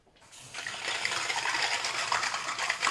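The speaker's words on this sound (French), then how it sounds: "je les passe sous l'eau douce" Fresh running water gushes steadily from a tap over mussels in a colander, a continuous close splashing flow that starts abruptly and holds for a few seconds.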